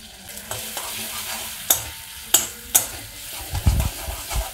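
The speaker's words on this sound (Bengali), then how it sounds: "ভালো করে এটা ভেজে নেব।" Spices and fried coconut frying in oil for labra, stirred with a spoon: a soft continuous sizzle broken by several sharp scraping clacks against the pan and a brief rumbling stir near the end, close up.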